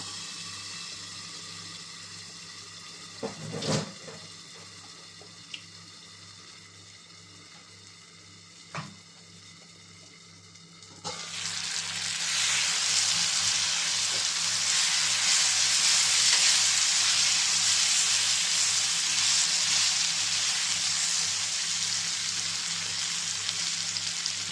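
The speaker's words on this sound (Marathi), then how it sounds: "भाजी खाली लागायला लागली आहे, त्यामुळे थोडंसं पाण्याचा एक शिंपडा मारणार आहे मी, जस्ट टू काय म्हणतो आपण एक स्टीम क्रिएट करायला" Water splashed onto stuffed brinjal (bharli vangi) frying in a pan sets off a sudden loud, steady steam hiss that rolls on continuously, after a few sparse clinks and scrapes in a quieter sizzle.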